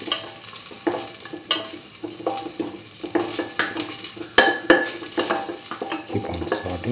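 A spoon stirs a thick chickpea coconut dip with ginger paste and salt in a pot, making repeated soft scrapes and wet squelches with a couple of sharp metallic clinks. The sound is close and rhythmic, with no speech.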